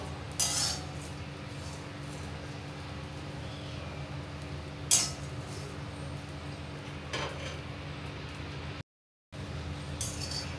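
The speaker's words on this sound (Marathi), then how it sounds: "सुकट आधी आपण 5 मिनिटं कढईत व्यवस्थित भाजून घेऊया" Dried sukat fish dry-roasting in a kadhai for a Maharashtrian kalvan, with occasional clinks of a spatula against the pan over a steady low background hum.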